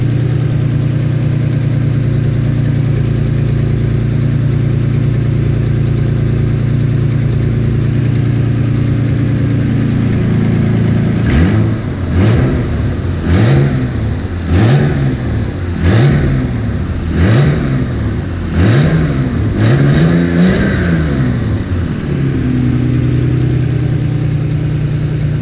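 A Toyota Supra engine, just back together after spark plug and painted valve cover work, idles steadily, then gives a run of about ten sharp revs before settling back to idle, loud and close.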